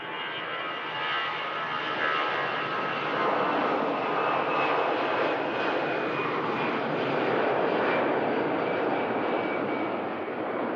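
Jet airliner departing Manchester Airport, a loud, steady broadband engine roar holding strong throughout with a whining tone riding on top, no voices.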